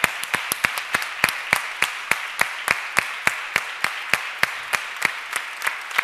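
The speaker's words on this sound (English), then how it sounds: "An applause." Audience applause at a Women in Tech 2015 event, a steady run of sharp, evenly spaced claps carrying over a diffuse crowd wash for several seconds, with no talk over it.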